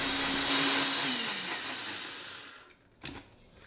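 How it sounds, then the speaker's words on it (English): A blender mixing egg whites with cinnamon and vanilla runs loud and steady, its motor pitch sliding lower before it winds down and stops, then a sharp clack, with no talking. "Put it back in the blender."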